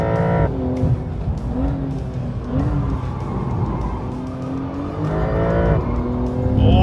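A 2022 Porsche 911 GTS driven hard on a race circuit, its engine loud and close, revving and shifting through rising and falling pitch sweeps with tire squeal, continuous for several seconds without talk.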